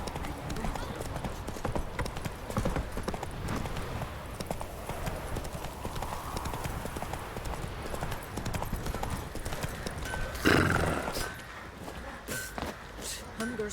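Horse hooves clip-clop steadily in a Witcher 3 game scene, a continuous walking rhythm close by with a brief loud burst midway; a voice talks over parts of it.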